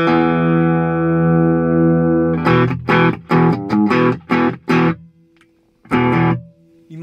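A Gibson Les Paul Deluxe plugged straight into a 1987 Marshall JMP50 with an attenuator rings out a sustained distorted chord, then plays a series of short, choppy overdriven chord stabs with brief gaps between them, loud and close.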